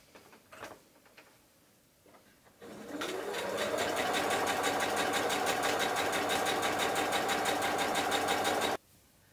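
A sewing machine stitches two fabric layers for a dog beanbag bed, first a few soft handling knocks, then a loud, steady rapid whirring run of stitching for about six seconds that stops abruptly.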